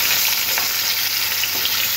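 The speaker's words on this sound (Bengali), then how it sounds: "এই মাছ ভাজার তেলের মধ্যে আলুগুলো একটু ভাজতে হবে।" Lengthwise-cut potato strips fry in oil left over from frying katla fish, giving a continuous close sizzle and crackle that stays loud and even throughout.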